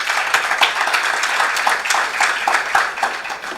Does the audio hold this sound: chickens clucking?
no